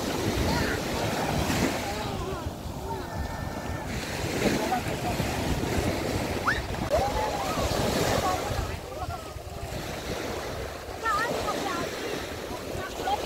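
Choppy sea waves at Subic, Zambales, during a high tide, washing and surging continuously under strong wind noise against the microphone, with faint voices in the background.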